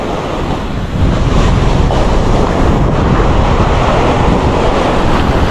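Loud, close ocean surf washes continuously around a paddled boat, with wind buffeting the microphone and a heavier wave surge after the first second.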